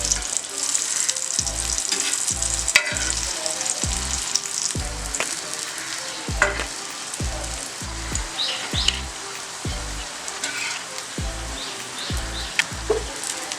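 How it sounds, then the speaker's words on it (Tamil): Slices of elephant yam frying in hot oil, a steady crackling sizzle with occasional sharper pops and repeated low thumps as pieces are handled and turned. "இதே மாதிரி நம்ம எல்லாத்தையும் வறுத்து எடுத்துக்குவோம்"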